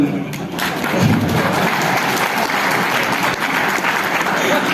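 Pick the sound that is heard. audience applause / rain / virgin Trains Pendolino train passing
audience applause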